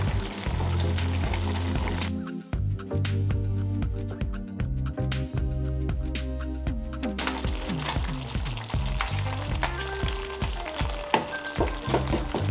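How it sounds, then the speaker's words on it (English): Carrots and potatoes tipped into a pot of Jamaican curry mutton, a loud sizzle broken by a burst of clattering drops, then continued bubbling with scattered knocks and stirring. "the vegetables that I was cutting up earlier, I'm gonna add it to the pot"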